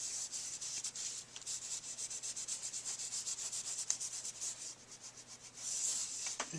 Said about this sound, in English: I just bring in one of my handy dandy little towels and very lightly I'm going to go over and rub off the ink on the embossed areas